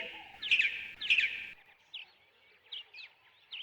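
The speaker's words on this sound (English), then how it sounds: "He met Bird and asked her, Did you steal my chestnuts? Bird shook her head. Chirp, chirp" Bird chirps in a children's story: two bright, clear chirps near the start, then several softer, quick tweets trailing off, alone with no talk.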